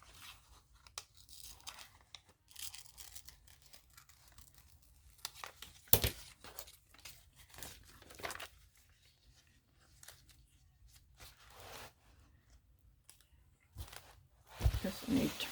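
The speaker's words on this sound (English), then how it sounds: "And I guess we can cut the glove off." Scissors snipping and paper crinkling nearby as a glove is cut away from a background, with short uneven cuts and tearing sounds, mostly faint, plus a sharper crunch midway.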